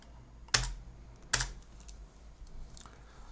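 Keys on a computer keyboard are struck in a few sparse, crisp clicks, two louder taps followed by softer ones, close and alone in a quiet room.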